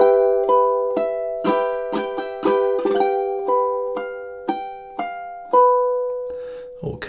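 Ukulele strumming a chord progression, a series of ringing plucked chords with clear decays, one voice speaking briefly near the end as the last chord fades.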